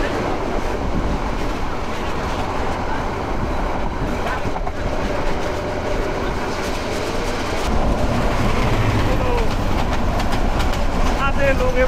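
Chattala Express train running through a railway station, a steady loud rumble and rattle of wagons throughout, swelling louder near the end, with voices faintly audible beneath.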